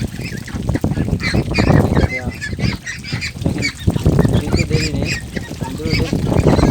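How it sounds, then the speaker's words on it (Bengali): A flock of Pekin ducks being fed mango give loud, repeated honking quacks close by, many birds calling over one another almost without pause. "সবগুলো হাঁস চলে আসছে"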